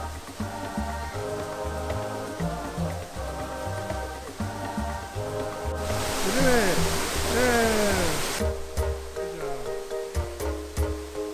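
Waterfall at a zoo primate exhibit, a steady rushing wash of falling water that swells loudest midway, heard among voices and other harmonic sounds nearby.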